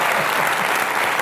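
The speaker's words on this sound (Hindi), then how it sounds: "एक बार जोरदार तालियां।" A studio audience at a televised comedy show bursts into loud, dense applause, a steady wash of clapping that holds evenly throughout without pause.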